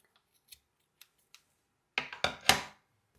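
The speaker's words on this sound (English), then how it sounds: "we can go ahead and tie off by cutting the yarn" Scissors snip through crochet yarn, a few faint light ticks followed by two or three sharp, close cutting clicks in quick succession.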